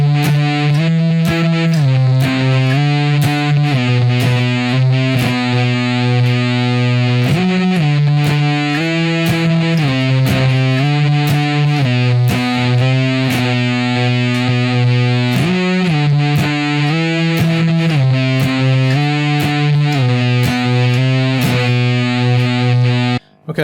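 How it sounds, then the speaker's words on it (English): Distorted electric guitar playing a stoner rock riff of strummed octave slides, loud and steady with an effects-heavy tone, repeating the riff for over twenty seconds with no talking. "So this time it's a strum slide approach."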